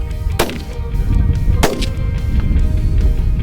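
A rifle fires during an outdoor antelope hunt, with two sharp, loud close gunshots about a second apart, each followed by a brief rumbling echo across open ground.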